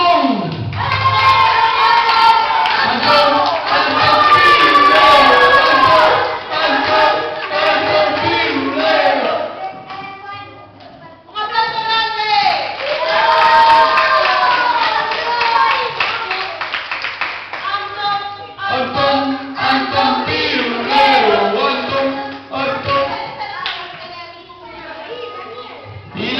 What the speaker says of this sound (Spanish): para ti un aplauso, Mr. Antón